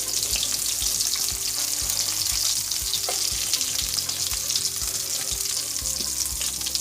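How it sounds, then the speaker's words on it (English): Vegan potato croquettes frying in very hot oil, a dense, loud, continuous crackling sizzle with frequent small pops and light knocks, close and alone. "As you can see, this side crisp up. It's because the oil was so hot."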